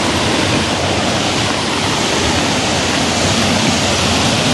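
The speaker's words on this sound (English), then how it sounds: "Guys, as you can see the river." A river swollen after rain rushes loudly and continuously, a dense, unbroken roar of fast water close by, with no voices.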